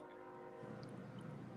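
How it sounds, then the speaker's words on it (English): A train passing in the background in the country, a faint, steady rumble with a sustained horn-like tone under quiet surroundings, distant and low in level throughout. "I know y'all hear the train in the background."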